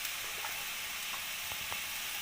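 Onion sizzles with spices in a hot pan for a Bengali parshe fish curry, a steady loud hiss of frying with a few soft stirring scrapes and taps, close up with no talk.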